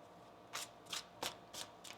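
A deck of tarot cards is riffled in five quick, crisp bursts spaced evenly apart, close and fairly soft, with no talking.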